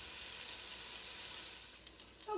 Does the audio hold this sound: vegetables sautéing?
yes